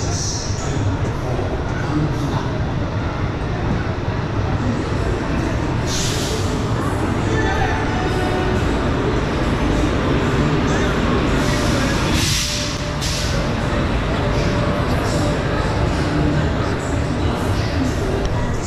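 Ferozepur Chhindwara Express passing on the track, a steady loud rumble and rattle of rolling wagons running throughout, with a sharp metallic screech or horn-like burst near the middle and people talking faintly underneath.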